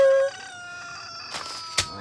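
A rooster crows once, a brief strained call that fades into faint scratchy background noise in a Jamaican home kitchen.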